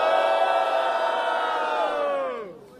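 Crowd at a Brazilian rap battle, Batalha do Coliseu, roaring and cheering for Lux D in one loud sustained swell of shouts that fades out at the end.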